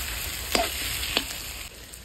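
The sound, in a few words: meat frying and being stirred in a pan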